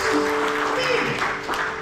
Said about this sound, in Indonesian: Berikan tepuk tangan bagi Tuhan kita